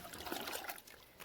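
Water trickles and splashes onto shredded newspaper bedding in a red worm vermicompost bin, a brief, soft, close pour with light spattering and no talk.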